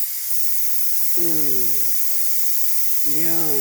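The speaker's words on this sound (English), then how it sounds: "And that steam is still releasing and releasing." Steam hisses steadily from a pressure cooker of beans, a continuous loud high-pitched rush throughout, with two short voiced exclamations laid over it.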